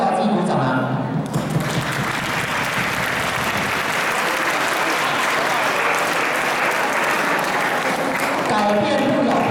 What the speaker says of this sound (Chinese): 没有人鼓掌，我只好自己鼓掌啊。